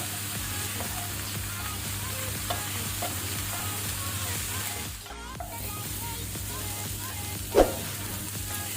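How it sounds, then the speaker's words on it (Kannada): Cauliflower sautéing on high flame, a steady loud sizzle with repeated spatula stirring and scraping in the pan, one sharper clank near the end, no talking. "ಈಗ ನಾವು ಇದನ್ನು 2 ಮಿನಿಟ್ ಈ ರೀತಿ ಹೈ ಫ್ಲೇಮಲ್ಲೇ ಸಾಟೆ ಮಾಡಬೇಕು, ಫ್ರೈ ಮಾಡಬೇಕು."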